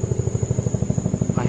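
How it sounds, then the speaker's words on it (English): Rhythmic thumping of helicopter rotor blades, fast and regular, fairly close and loud, as a helicopter flies over Tallahassee. "There's a helicopter coming."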